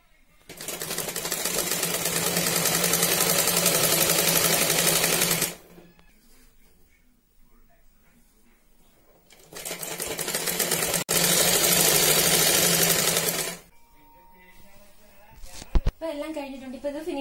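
A sewing machine stitches a bed cover made from an old saree, running in two long, steady bursts of rapid mechanical stitching separated by a quieter pause with faint handling sounds.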